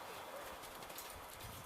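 A horse's hooves clip-clop at a canter on an outdoor training ground, faint and steady under a constant background hiss.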